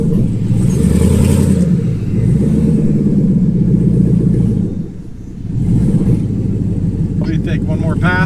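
A truck with a Gen 5 engine swap roars loudly as it pulls hard in gear, a deep rumbling exhaust that dips briefly before surging again, close and continuous.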